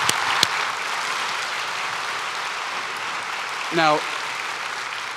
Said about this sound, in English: Let's give our guests a huge round of applause.